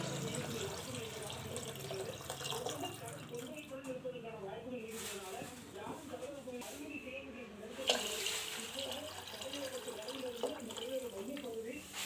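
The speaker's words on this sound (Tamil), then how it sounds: "இப்போ இதில் நம்ம 2 சொம்பு தண்ணி ஊற்றிக்கலாம்." Water streams steadily into a pot of rice and lentils with a constant splashing rush, while a person talks over it.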